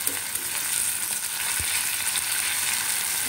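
Loita fish fries in a pan with a steady, close sizzle and crackle, dense and unbroken, with one soft low knock partway through and no voices.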